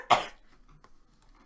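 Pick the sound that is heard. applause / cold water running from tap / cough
cough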